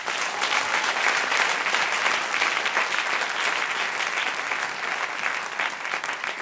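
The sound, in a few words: congregation applauding in church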